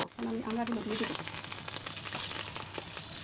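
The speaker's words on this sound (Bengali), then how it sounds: "5-6টা রসুনের কোয়া দিয়েছি। হালকা একটু ভেজে নেব।" Garlic cloves frying lightly in hot oil, with ginger paste going in too, give a steady crackling sizzle that fills the clip, with a brief voice-like tonal pattern near the start.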